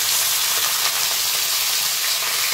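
Onion hitting hot oil in a home kitchen pan alongside frying fish, producing a loud, steady, close-up sizzle and hiss that continues unbroken throughout.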